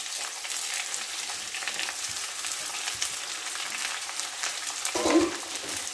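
Sliced onions sizzle steadily in a hot pan with ginger in a home kitchen, a continuous close frying hiss with a short clatter of stirring near the end.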